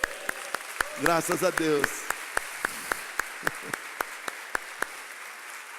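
A church congregation claps in a slow, even beat, sharp distinct claps at steady intervals, moderately distant, with a brief spoken voice near the start.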